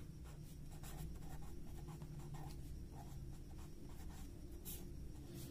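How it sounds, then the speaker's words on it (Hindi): Pen writing on paper while a date is written out by hand during a lesson, a steady soft scratching with short strokes throughout, fairly close and quiet, with no talk. "तो मैं इसको लिखती हूं"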